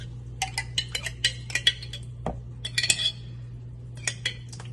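Pasta sauce is stirred into baked ziti, making a run of clinks and scrapes of a utensil against a dish in irregular bursts over a low steady hum, with no one talking.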